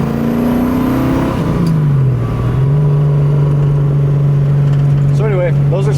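A 1969 Ford Mustang Mach 1 with a 521 cubic-inch big-block V8 runs steadily at a loud, close idle, its engine note dipping and settling after a brief rev, with faint background noises near the end.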